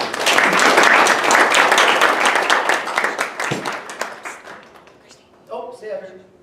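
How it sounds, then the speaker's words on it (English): Warm clapping from guests at a softball awards banquet rises to a full round of applause, then thins into scattered claps as it fades, with a voice starting to speak near the end. "give them a little round of applause after each one"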